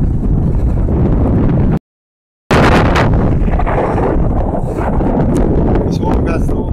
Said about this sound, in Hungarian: Elég kellemetlen északi szél van